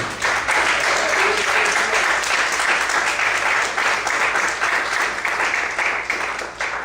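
A church congregation applauds steadily during a Portuguese-language sermon, a dense, loud wash of clapping hands that fills the hall for about seven seconds without letup.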